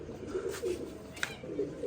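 Pigeons coo in a loft or cage in a Punjabi village, several low throaty calls repeating in soft rounds, fairly close, with a brief sharp click partway through and no speech.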